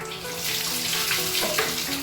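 Water runs steadily from a tap while puppies are being bathed, a close, continuous splashing hiss with no talk over it.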